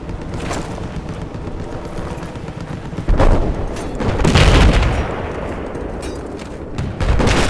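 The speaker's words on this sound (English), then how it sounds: "Shot the bomber down." Gunfire in a tank combat video game as an enemy bomber is shot down: loud booming shots and bursts over a continuous rumbling battle din, with heavy blasts midway.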